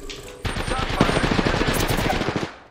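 Rapid automatic gunfire erupts in a video game, a dense, loud burst of machine-gun shots lasting about two seconds before cutting off, with a voice speaking briefly alongside.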